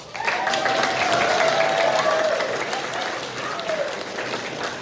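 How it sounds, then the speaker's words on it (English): Sustained round of applause from an evening audience at a school's fall academic exhibition, broad steady clapping with some crowd voices mixed in over nearly five seconds. "Round of applause."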